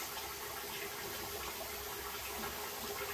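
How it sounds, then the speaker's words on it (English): Running water splashes steadily from a sink tap while someone rinses their face during a morning skincare routine, a continuous close hiss with no talk. "Now I'm about to rinse off my face."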